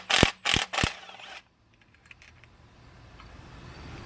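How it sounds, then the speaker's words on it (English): A wrench ratchets an old bolt loose on a second-generation Cummins diesel engine, three sharp close clicks in quick succession, then faint metallic ticks over low room noise. "let's get this old bolt out of the way"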